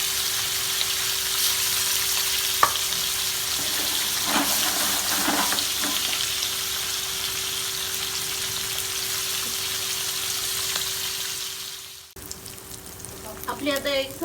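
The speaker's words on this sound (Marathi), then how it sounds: "तेल थोडं जास्त घ्यायचं आहे, कारण की मांदेली आपल्याला कडक फ्राय करायचे आहे" Mandeli fish fry crisp in plenty of hot oil, a dense, even sizzle that carries steadily, punctuated by faint clicks and a brief stir or shift near the end.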